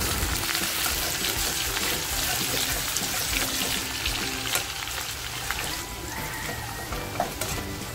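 Onion and whole spices fry in hot oil in a wok for a prawn biryani, giving a steady, dense sizzle throughout with occasional stirring scrapes and small crackles, fairly close and continuous with no talking.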